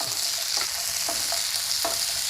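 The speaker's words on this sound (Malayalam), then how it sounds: "ഈ തക്കാളിയും കൂടെ ഒന്ന് നാലായിട്ട് മുറിച്ച് അതും കൂടെ നമ്മളൊന്ന് മൂപ്പിച്ചെടുക്കാം" Quartered tomato frying in a pan for a river fish curry, a steady hissing sizzle with a few sharper crackles and stirring scrapes spaced through it, close and alone without voices.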